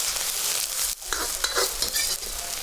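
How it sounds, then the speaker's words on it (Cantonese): Ginger and scallions stir-fry in hot oil over low heat for noodles: a steady, dense sizzle runs throughout, broken by scraping pushes of the spatula across the pan. "啲油爆香薑葱佢"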